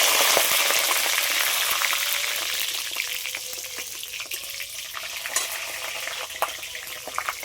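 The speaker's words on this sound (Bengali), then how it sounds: "তেলের মধ্যে দিয়ে দেবো গোটা শুকনো লঙ্কা, তেজপাতা আর সাদা জিরে" Whole dried red chillies, bay leaf and white cumin seeds sizzle and crackle in hot oil, a steady close frying hiss that eases slightly after the first seconds, dotted with sharp pops and spatters.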